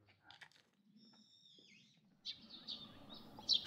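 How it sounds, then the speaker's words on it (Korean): Birds sing and chirp in a quiet Korean countryside garden in Hwasun, with faint, clear whistled calls near the start, followed by louder, busier chirping over a soft outdoor background toward the end. "새소리,"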